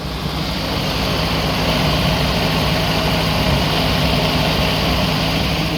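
A yellow truck with new valve seals idles steadily and close by, a low, continuous engine rumble with a faint rhythmic ticking running through it.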